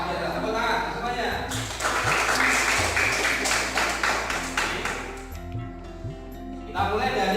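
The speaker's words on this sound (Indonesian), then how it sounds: "Luar biasa, tepuk tangan semuanya." Students in a classroom break into a burst of applause that swells for a few seconds and then fades, with voices and tonal sounds continuing underneath and around it.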